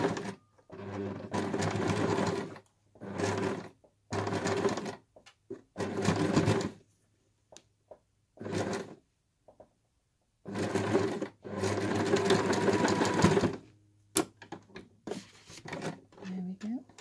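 A sewing machine stitches a quilted scissor case in a series of separate bursts of close, rapid stitching, with pauses between, and a person speaks near the end.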